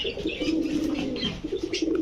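Rajshahi Giribaz pigeons coo softly in repeated low, throaty calls, close by and with no one talking.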